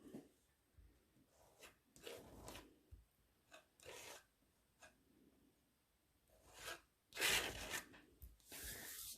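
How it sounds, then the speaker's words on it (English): Icing paste being scraped across a surface, a series of quiet rasping, rubbing strokes in uneven bursts with pauses, growing louder and longer toward the end, heard close up without talk. "And you just keep scraping."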